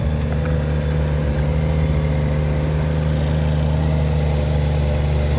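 A Ferrari 458 Italia engine idles steadily with a smooth, even low hum that holds constant throughout, close and loud, with no talk.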